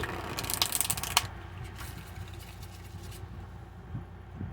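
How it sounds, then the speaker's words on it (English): Steampunk Tarot cards are shuffled by hand, a brief burst of crisp riffling and flapping near the start followed by quieter soft handling and faint rustles, close and alone. "I'm just going to shuffle them until they feel like they are ready"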